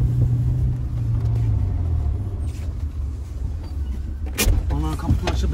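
Honda car power window whirs open in a short motor sweep after an idling rumble, with people talking in the cabin and a sharp click near the end.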